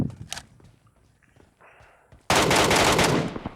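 Gunfire in the video game PUBG: a few faint early shots and soft footsteps, then a sudden loud burst of rapid automatic fire filling the last second and a half.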